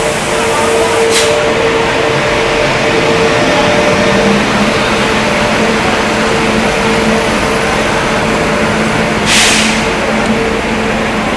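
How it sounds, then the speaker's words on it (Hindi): Rewa Express, the Rewa–Anand Vihar train, arriving at Prayagraj station with a loud, continuous rumbling roar and steady mechanical hum, broken by two brief hissing bursts of air brakes, no voices. "संगम नगरी प्रयागराज में अराइवल हो रहा है रीवा एक्सप्रेस का, रीवा आनंद विहार"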